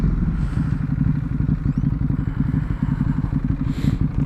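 A Ducati Hypermotard motorcycle engine idles with a steady, close, low-pitched rhythmic chug, holding an even level throughout without revving.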